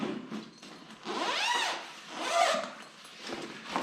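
A long zipper on a snowboard bag pocket pulled open in several drawn-out rasping strokes, close and fairly loud, with short pauses between pulls.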